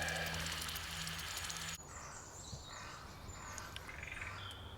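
A crow calls somewhere in the Forest of Bere's Queen's Inclosure, faint and distant among other birdsong over a quiet outdoor background beside a slow-cooking campfire.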